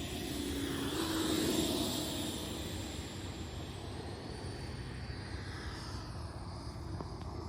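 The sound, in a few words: FMS Avanti 90mm RC jet with thrust vectoring flying low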